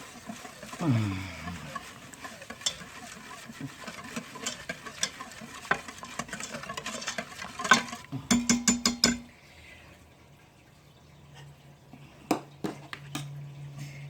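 Ingredients including onion flakes being mixed in a bowl for an Instant Pot London broil, with scraping and stirring sounds, a few clinks, and a louder rattling burst near the end.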